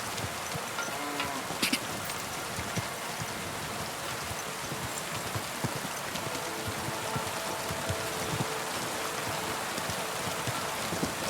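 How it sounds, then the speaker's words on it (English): Steady rain in the medieval video game Kingdom Come: Deliverance 2, a continuous broadband hiss of falling water at moderate level, with faint scattered taps and knocks mixed in. "Probably raining now."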